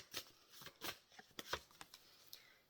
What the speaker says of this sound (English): I'm going to pull some more cards before I ramble too much